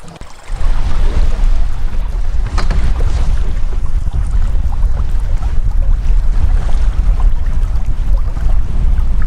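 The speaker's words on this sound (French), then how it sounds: "tandis que le vent se lève." Strong autumn wind rises over a lake at a wild campsite as the sky darkens, a loud, steady broadband roar buffeting the microphone throughout with no voices.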